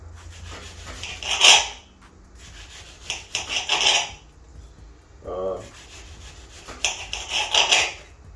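A jagged edge knife sawing through a purple onion, several close rasping bursts of cutting strokes separated by short pauses, with a brief sound of someone talking between them.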